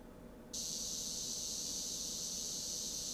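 A Chinese cicada starts calling abruptly after a brief quiet moment, holding one steady, shrill, high-pitched buzz without a break over faint background noise.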